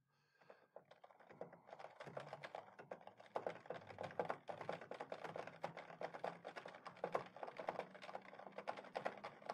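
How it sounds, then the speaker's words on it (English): Rapid, irregular clicking of keys on a computer keyboard, close and fairly quiet, continuing steadily after a short pause at the start. "And then you just start typing away."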